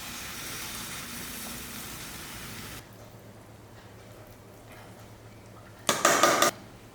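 Cooked pongal is lifted from the pot for serving, starting with a soft scraping and shuffling, then a quiet pause, followed by a short burst of clattering utensils and metal clinks near the end.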